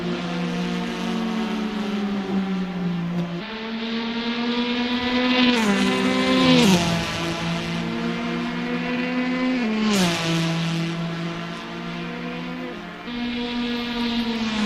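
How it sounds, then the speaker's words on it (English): In a racing sim game, a line of Porsche 911 RSR race cars howls past on the 1966 Monza road course. Loud engine tones climb through the gears, and two sharp downshift drops come as the cars pass, with no talking. "There you see the line of Porsches coming around now."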